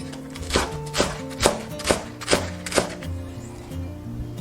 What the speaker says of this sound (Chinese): 切一些葱花备用